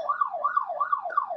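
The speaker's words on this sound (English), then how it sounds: "Yeah, that's a siren noise." A synthetic siren wails in quick repeating up-and-down sweeps, about four cycles, clean and alone with no background noise.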